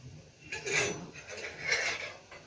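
Okra being stirred with sugar in a bowl, a utensil scraping and clinking against the dish in two louder bursts over a low background hum, no talking.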